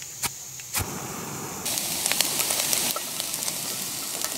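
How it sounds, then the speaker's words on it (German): Bacon and onions sizzle steadily in a pan at an outdoor bushcraft camp, a continuous close hiss with a few sharp crackles and pops. "Jetzt ist erstmal Speck und Zwiebeln in der Pfanne"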